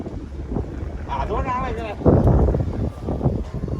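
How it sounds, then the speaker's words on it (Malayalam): Loud, rushing wind buffeting the microphone outdoors, with a person talking partway through and a low roar underneath. "നല്ല കാറ്റുണ്ട്"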